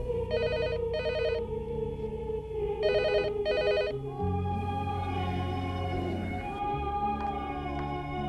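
A telephone rings in two double bursts of rapid electronic trilling, separated by a short pause, over a steady bed of soft background music.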